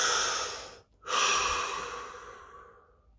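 A deep breath taken during a guided face-relaxation exercise: a long, close, airy inhale, a brief pause, then a long exhale that fades away, with no talking.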